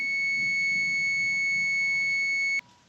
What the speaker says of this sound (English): Take your 2 leads, touch them together, and it should beep.